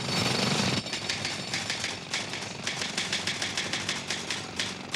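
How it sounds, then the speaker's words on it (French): Typing on a manual typewriter in an office, a steady run of sharp mechanical key strikes over a dense, noisy background, fairly loud and continuous after a brief louder burst at the start. "Tapez un peu moins fort à la machine, je vous en prie, Catherine"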